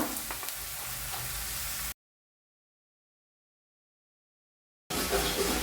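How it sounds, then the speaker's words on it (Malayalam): Amaranth leaves and onion stirred in a small pan give a steady, soft sizzling hiss in two stretches separated by a few seconds of silence. "ചീരയില കുറച്ചായിട്ട് ഇളക്കുക"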